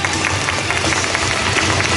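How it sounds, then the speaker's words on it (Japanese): Broad, steady applause from a festival audience greeting samurai and ninja performers at the opening of a spring event, a continuous wash of clapping with a low hum beneath it. "大きな拍手でお迎えください。"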